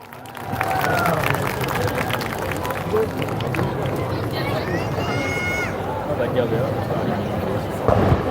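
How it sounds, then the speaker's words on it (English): An audience at a school cultural event breaking into applause, a rushing wash of clapping mixed with crowd murmur and a few voices, fairly loud and sustained. "Please give them a big round of applause."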